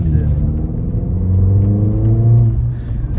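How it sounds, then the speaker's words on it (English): Mercedes A45 AMG accelerating hard, a loud close engine and exhaust roar rising steadily in pitch through the gears, with a voice talking over it. "The standout for me has to be that exhaust though."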